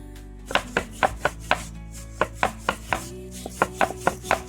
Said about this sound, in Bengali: এবার আমি গোল গোল করে কেটে নেব।